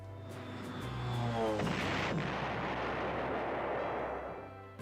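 A long, rolling rumble of artillery fire from the retro PlayStation wargame Panzer General swells and sustains for several seconds, dense and booming, with a tonal game-music drone underneath.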